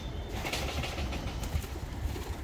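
Pigeons in a coop of Budapest Deres Goylak-type birds coo in a low, continuous murmur with soft rustling and some wing movement, moderately close and without speech.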